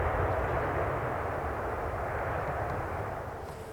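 A Ryanair airliner decelerates after touchdown at Manchester Airport, a broad, loud roar of engine reverse thrust and rushing air that slowly fades over a few seconds.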